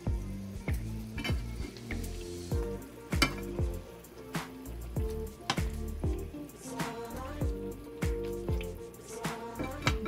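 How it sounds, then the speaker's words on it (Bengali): Chicken reshmi kababs frying in oil, a close, lively crackle and sizzle broken by frequent sharp pops and spatters, with the occasional clink of a utensil against the pan. "4 থেকে 5 মিনিট মতন এপিট ওপিট আমি 2 সাইড ভেজে নেব"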